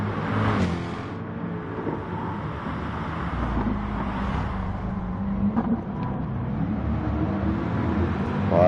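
Gr3 race car engines roar together at Tsukuba in a video game race, a steady dense drone of several cars at once, loud and continuous with small shifts in pitch as they jostle on lap three.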